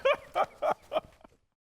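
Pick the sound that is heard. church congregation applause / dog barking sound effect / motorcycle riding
dog barking sound effect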